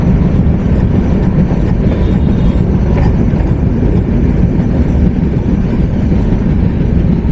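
The Madhumati Express rolls into rain-soaked Padma station near the Padma Bridge with a loud, sustained rumble of wheels and carriages, rattling steadily and close by without any voices.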